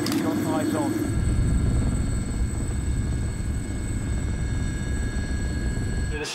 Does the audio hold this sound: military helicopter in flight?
yes